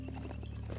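Hooves of a horse mount in the video game Biomutant clop along in a steady, rhythmic walking pattern, moderately quiet over a constant low game hum.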